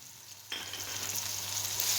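Ginger, garlic and green chili paste hits a pan of onion and tomato and starts frying, a steady close sizzle that jumps louder partway through and keeps going alone without talk.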